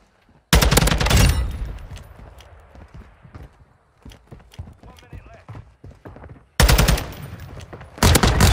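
Bursts of automatic gunfire in Modern Warfare 2, with loud volleys opening the clip and returning near the end, while players talk over quieter stretches in between.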